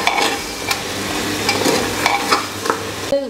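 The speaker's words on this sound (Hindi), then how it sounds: "अब इन मसालों के साथ में 2 से 3-4 मिनट हम मटन को भूनेंगे," Mutton fries with spices in a pan, giving a loud, dense sizzle broken by repeated scraping stirs, close up and with no one talking.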